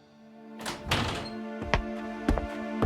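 A door opens in a Tagalog audio drama, heard as a few close wooden thunks and knocks in a dim, quiet room, with no one speaking.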